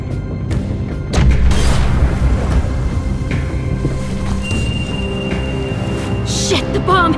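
Bomb blast in The Walking Dead game, a heavy booming rumble that surges in loudly and lingers with crashing debris and a tense musical drone beneath.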